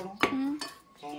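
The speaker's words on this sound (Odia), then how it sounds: "ଆଳୁ କାଟୁଛି" A knife cuts potatoes for an outdoor mutton feast, ringing with sharp metallic clinks and a short sustained clang against a metal dish or pot. There are about three distinct hits, close and clear.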